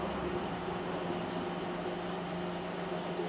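A worn-out microwave oven runs with a steady, even hum and a low electrical drone that holds at constant loudness throughout, with no voices.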